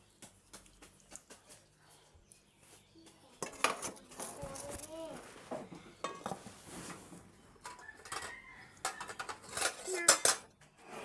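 Plates and cutlery clink repeatedly as food is served for children at a home table, with busy clattering bursts and a voice talking intermittently nearby.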